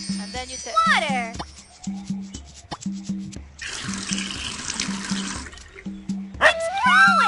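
A watering effect in an educational plant-growing video game sounds as a burst of trickling, splashing water midway, surrounded by chirpy musical tones and repeated short game blips.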